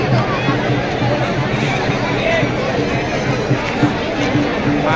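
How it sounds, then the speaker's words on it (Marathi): A festive crowd at a Khandoba palanquin procession during a village fair makes a loud, unbroken babble of many voices, with chatter and shouts close by. "खंडेरायाचे बघू गर्दी कशी गर्दी आहे जल्लोष आहे यात्रेची"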